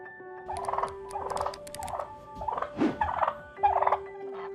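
Turkey gobbling in repeated rattling bursts across the whole stretch, close and fairly loud, with a steady tonal hum running underneath and no talking.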